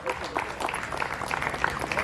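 Applause from an audience at a ceremony in Angola, a steady patter of clapping under and around a voice, moderately loud throughout.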